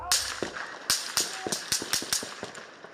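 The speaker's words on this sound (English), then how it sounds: "Suddenly gunfire, panic." A burst of sharp gunshots, about eight cracks in an irregular rapid sequence, loud and close with brief echoes between them.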